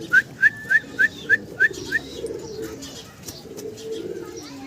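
Fancy Soyabin pigeon cooing nearby, a quick series of seven short rising whistly calls in even rhythm, followed by quieter background murmur and faint rustling.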